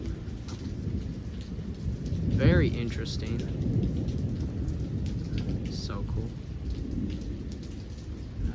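A quick thunderstorm with lots of lightning, with steady rain hissing throughout and a deep rolling rumble of thunder building midway, while people talk quietly over the downpour.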